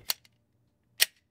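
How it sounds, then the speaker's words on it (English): Two sharp gunshots about a second apart, crisp and fairly close, each a loud crack followed by a short decay, with quiet in between and a third shot beginning at the very end. "Gunshots."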